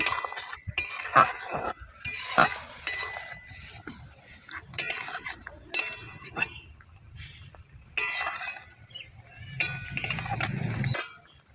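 A spoon stirs and scrapes okra curry with white sesame paste in a metal pan, giving intermittent clinks and scrapes in short bursts with quiet gaps between.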